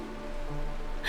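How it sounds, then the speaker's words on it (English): Steady rain falls in a video game scene, a dense, even hiss of drops spread across the whole clip with a soft low rumble beneath, alone and without voices. "This is the sound of rain."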